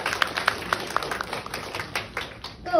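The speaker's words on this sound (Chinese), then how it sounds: "再次掌声" Quiet, fairly even clapping from the audience at a Taiwanese-language children's poetry award recitation, soft and brief with a slightly rhythmic pattern.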